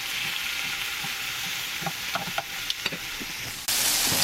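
Shrimp sizzle in a frying pan with a steady, hissing fry. A few clinks and taps come from flipping the pieces, then the sizzle swells louder near the end, with no talking.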